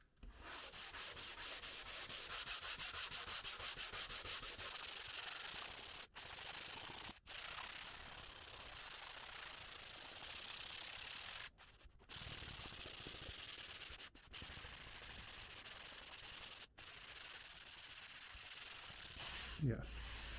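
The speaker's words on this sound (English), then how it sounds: "For this I'm going to use this sanding pad, which is hard foam, and it's perfectly flat." Hard flat foam sanding pad rubbed across an archtop guitar's wooden top, loud rhythmic rasping strokes continuing steadily with a few brief pauses between passes.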